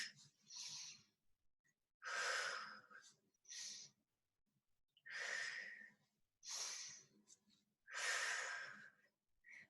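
Slow, deliberate breaths during a flexibility exercise class, with several long inhales and exhales alternating in a steady rhythm, close and fairly quiet, with no talking.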